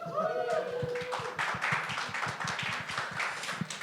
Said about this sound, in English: this is the final panel, so I think we deserve a round of applause